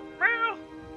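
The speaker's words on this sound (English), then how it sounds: "There is a meowing at the window." A single drawn-out cat meow at a window, played as a Foley effect, clear and fairly close against quiet room tone.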